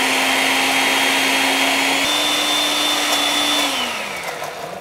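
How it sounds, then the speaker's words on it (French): A kitchen blender whirs steadily as it purees a mixture with butter and cooking milk, a loud constant motor whine that shifts pitch slightly midway and then winds down near the end. "on va pouvoir passer au blender. Ok, on va le mixer"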